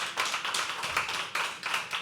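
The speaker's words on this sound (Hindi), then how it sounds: "जोरदार जोरदार तालियां।" An open mic poetry audience breaks into applause, a close, dense burst of many hands clapping in steady waves for a couple of seconds.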